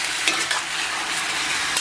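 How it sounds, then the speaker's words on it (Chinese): Blanched pork belly with scallion and ginger sizzling and being stirred in a hot wok with oil and caramelised rock sugar, a steady close-up frying hiss throughout. "然后把焯好的五花给它下到锅中"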